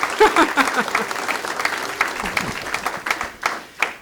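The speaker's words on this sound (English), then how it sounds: "please feel free to applaud them" An audience at a forum for Westchester Township trustee candidates applauds, a continuous wash of clapping from many hands that holds steady for a few seconds with some louder claps near the end.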